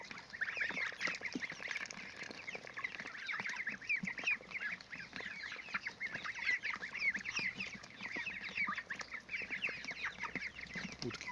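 Young geese and ducks crowd a feeder of wheat and corn, a steady mix of honks, quacks and clucking chatter, close and continuous.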